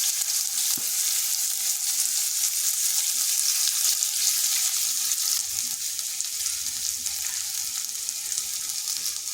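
Onion frying in oil in a kadai, a steady bright sizzle with a faint clink of a utensil, continuous and close throughout.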